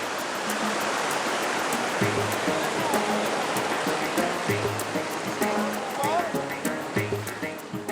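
Rushing rapids on the Erft wild water river make a loud, continuous churning roar close by, with a voice speaking over the water.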